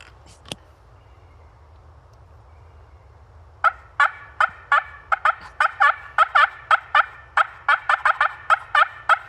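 Cutting calls imitating a wild turkey hen, made on a box call and a slate: after one sharp click, a fast run of loud, choppy, excited clucks that repeats in irregular bursts.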